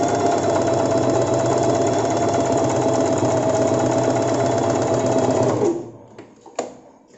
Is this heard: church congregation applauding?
no